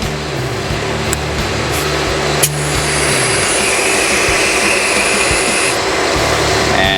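Steady broadband hiss of air rushing out of a tire through a Rough Country rapid tire deflator, loud and continuous throughout with no speech.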